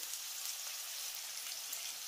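Thin potato slices with turmeric and salt frying in a pan, a soft, steady sizzle with faint crackles, quiet and continuous with no voice.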